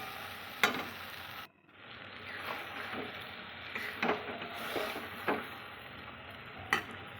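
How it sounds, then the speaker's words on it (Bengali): Prawns sautéing in a spice paste give a steady, moderate sizzle, with a few sharp utensil scrapes and knocks on the pan near the start and again toward the end, and no talking. "চিংড়িগুলো দিয়ে আর একটু কষিয়ে নেব"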